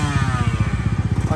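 A motorcycle engine idles close by in a brief burst, with a fast, even chugging pulse that is loud and alone, no talk over it.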